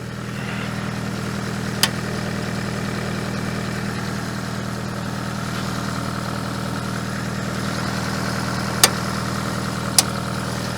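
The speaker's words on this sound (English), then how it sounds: "I just want to slowly bring up the winch, get rid of this tension that's on here" An OPENROAD electric winch hums steadily as it slowly reels in cable to take up tension, a constant low drone with a few sharp clicks.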